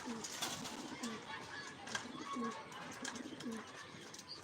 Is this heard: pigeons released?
yes